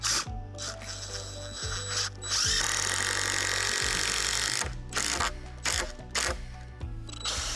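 A power driver sinks 4.5-inch lag screws into landscape timbers, with close, loud ratcheting bursts and a longer sustained whir in the middle, broken by short pauses.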